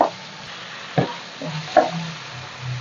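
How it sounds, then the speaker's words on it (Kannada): Onion, tomato and green chili fry in a pan for an egg chicken curry, with a soft continuous sizzle and a few distinct spoon scrapes from stirring. "ಚೆನ್ನಾಗಿ ಫ್ರೈ ಮಾಡ್ಕೊಳ್ಳೋಣ."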